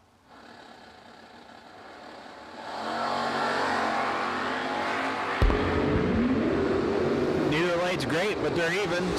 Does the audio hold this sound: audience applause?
no